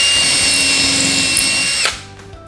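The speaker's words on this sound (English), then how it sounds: "I will drill through here" A power drill bores through a piece of wood being marked for a circle-cutting guide's pivot pin, a loud steady whine for about two seconds, then the bit breaks free and the motor spins down.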